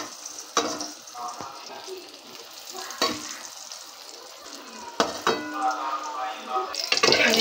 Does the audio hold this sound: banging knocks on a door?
no